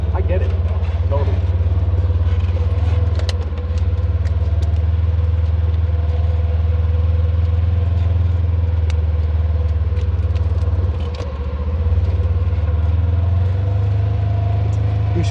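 A Razor-style off-road vehicle climbs Arizona's Broken Arrow Trail, its engine producing a loud, constant low rumble with brief dips, while people talk over it.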